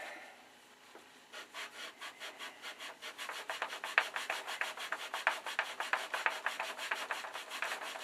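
Sandpaper rubbed by hand over small wooden pieces in quick, regular back-and-forth strokes that grow louder and more even, close and alone.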